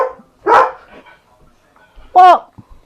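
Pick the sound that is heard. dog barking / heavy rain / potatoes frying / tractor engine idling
dog barking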